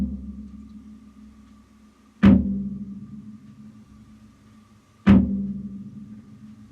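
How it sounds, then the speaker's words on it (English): Bass drum struck with a pedal beater buried against the head, two separate booming hits about three seconds apart, each with a sharp attack and a long ringing decay, close and alone. "that's the sound of the drum when I don't rebound the beater"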